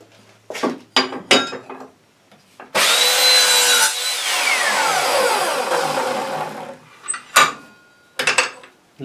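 An Evolution Rage 3S saw cuts a small piece of aluminium, giving a loud, bright whining grind for a few seconds, with clanks and knocks of the metal being handled before and after.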